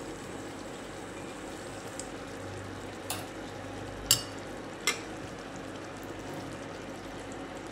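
Green chillies cooking in a yogurt gravy with fresh coriander, stirred in a pan: a low, steady simmer with three soft spoon scrapes against the pan, no talking.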